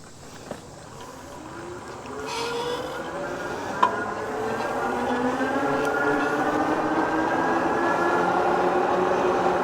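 A ONEBOT T6F electric bike motor under twist throttle, whining up steadily in pitch as it gains speed, with wind and road rumble rising underneath and a couple of brief knocks.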